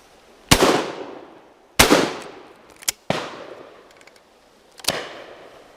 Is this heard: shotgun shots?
yes